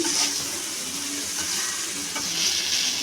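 Egg fried rice is stirred with garam masala and chicken masala in a hot pan, a continuous loud sizzle with scraping and tossing rising and falling, close by.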